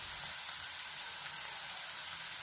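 Steady crackling sizzle of a prawn fry in an Andhra-style pan as curry leaves go in, a dense hiss with a few brief pops, close and continuous with no talking.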